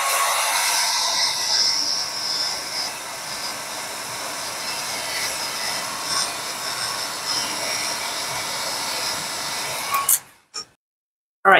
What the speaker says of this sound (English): I'm going to go over it one more time with my heat gun carefully so that I don't blow it all over the place.